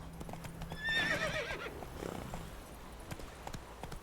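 The horse Roach in a video game, hooves clip-clopping at a trot with a clear whinny partway through, fairly close, followed by scattered hoofbeats.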